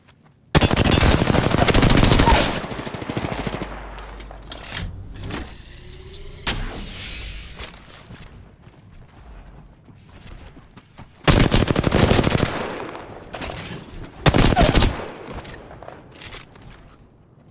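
Bursts of rapid automatic gunfire in the video game Apex Legends, loud and close, with a long opening volley, quieter shots and game effects in between, then two more sharp bursts near the end.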